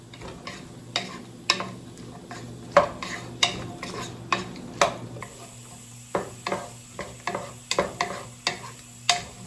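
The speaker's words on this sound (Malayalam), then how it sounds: "ഇഞ്ചി ഇടുക, മുളക്, പച്ചമുളക്, വെളുത്തുള്ളി ഇതെല്ലാം കൂടി ഇട്ടൊന്ന് നമുക്ക് നല്ലതായിട്ടൊന്ന് വഴറ്റിയെടുക്കാം" Ginger, red chilli, green chilli and garlic sautéing in a pan for a Kerala goat curry: a steady sizzle under repeated sharp clinks and scrapes of a spatula against metal, close and clear, with no talking.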